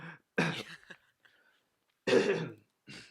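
A few rough, close coughs and throat-clearing bursts come in short clusters, separated by quiet gaps.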